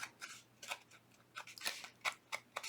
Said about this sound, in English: I'm going to quickly just touch up right here where I freshly made a fresh cut